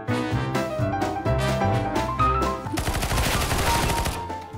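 Gunfire in the video game CS:GO: rapid bursts of automatic shots, loud and close, with a sustained fast volley in the second half.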